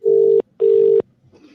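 A telephone tone on an outgoing call, two loud steady beeps about 0.4 s each with a short gap between them, then a faint tail of quiet noise. No one speaks over it.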